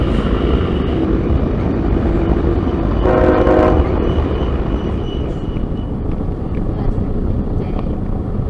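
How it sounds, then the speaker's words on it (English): A CSX freight train sounds its horn in one blast of a few seconds over a steady rolling rumble and heavy wind noise, recorded outdoors from a trackside chase near Waycross, Georgia. "we had plenty of special toots this day from this crew."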